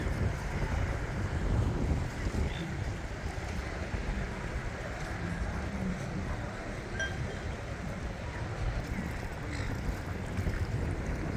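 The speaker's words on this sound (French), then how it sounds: "aujourd'hui il y a un peu de vent quand même" Steady wind rushing and buffeting the microphone throughout at Manly near Sydney, Australia, with a low rumble underneath that suggests open water nearby.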